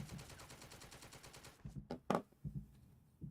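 In a WW2 strategy video game, a universal carrier's hull machine gun fires a rapid, faint stream of bursts, followed by scattered separate gunshots and impacts at varying distances.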